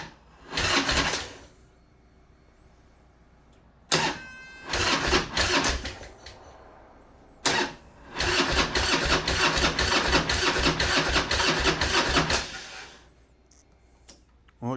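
A Harley Road King motorcycle engine cranking in several loud, rhythmic starter bursts, including one long run of chugging turns, separated by quiet gaps.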